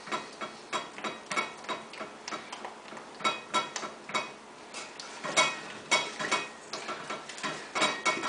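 Spoon stirring a melted vegan cheese mixture in a saucepan, with steady scraping clinks against the pan repeating in an uneven rhythm, close and moderately loud, with no voices.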